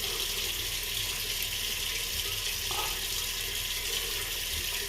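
Tap water runs steadily into a bathroom sink for a face wash after shaving, a close, continuous broadband splashing hiss with no pauses or talk.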